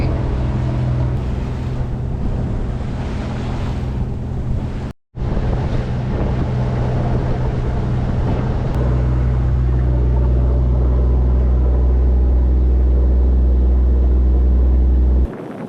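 A sailboat's engine drones steadily while motoring at sea off an island near La Paz, under heavy wind buffeting and rushing water, loud and continuous, with a brief dropout partway through.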